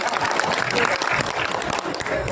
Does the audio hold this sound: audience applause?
yes